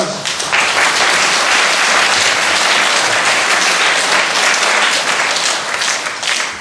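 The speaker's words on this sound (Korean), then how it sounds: "박수 한번 주세요." Sustained, dense applause from a congregation at a Wednesday church service, steady and loud throughout with no break, honoring a pastor's wife as she stands.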